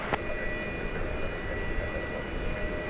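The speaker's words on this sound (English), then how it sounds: "it's kind of a dreamy liftoff for a Dreamliner" A Boeing 787 Dreamliner lifts off at DFW Airport, a steady jet engine roar with a high whine that holds evenly through a few seconds.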